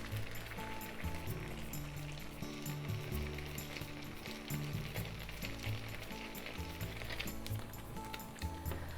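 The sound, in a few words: dumplings sizzling in a frying pan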